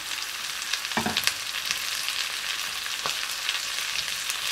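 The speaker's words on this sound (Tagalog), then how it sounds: "Saute lang po natin." Chili and onion sautéing in a hot pan while cooking a mackerel fish dish: a steady, bright sizzle and crackle with a few scraping stirs, heard alone without talk.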